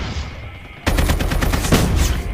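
In the Call of Duty Mobile video game, a close, loud burst of rapid automatic rifle fire erupts after a quiet moment, with its shots evenly spaced and continuing steadily.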